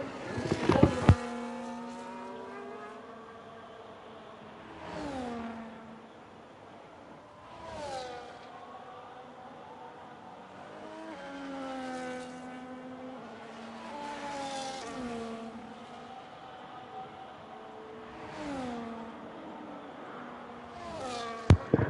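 Race car engine in a racing video game on an onboard lap at the Australia circuit, a high engine note rising through the gears with repeated downshifts and braking dips, steady and close.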